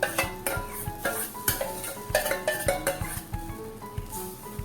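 A yogurt and gram flour kadhi mixture is stirred in a pot over low heat, with busy scraping and clinking of a spoon against metal in quick, uneven strokes, close and fairly loud.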